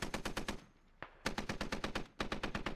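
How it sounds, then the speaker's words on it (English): Rapid bursts of automatic gunfire in the military shooter game Squad Ops, loud sustained volleys broken by a brief pause and one single shot before the firing resumes. "The shots from Tinkerbell would be good if they weren't impacting the hill right in front of him"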